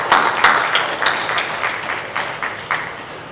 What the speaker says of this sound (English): So a quick round of applause for the Buell Regional Health Foundation.